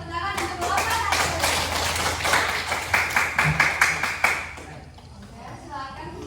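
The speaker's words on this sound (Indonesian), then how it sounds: "Tepuk tangan untuk kelompok satu" Classroom applause for a student group, a few seconds of brisk clapping from a roomful of students with chatter mixed in, easing off to quieter room noise near the end.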